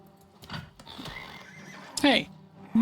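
A horse whinnies in the video game Oblivion, a loud harmonic neigh rising near the end after a quieter stretch with a brief call midway and faint hoofbeats and game ambience beneath.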